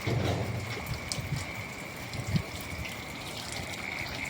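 Heavy downpour with wind in Gordka village, a dense continuous rush of rain and water splashing close by, alone without talk.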